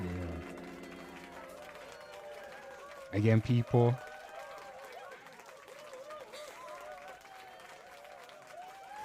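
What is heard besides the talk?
audience applause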